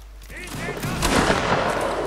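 Artillery and musket fire boom and crackle in a Napoleonic Wars battle in Mount & Blade: Warband, a dense, continuous barrage building louder over about two seconds, with a voice talking over it.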